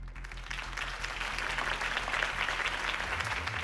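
Crowd applause greeting a campaign speech in Batman: The Telltale Series, a dense, sustained wave of clapping and crowd noise that builds slightly and holds throughout over a low hum.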